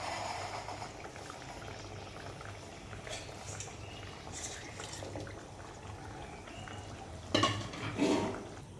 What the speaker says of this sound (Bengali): তরকারিটা আমার প্রায় বলক উঠে আসছে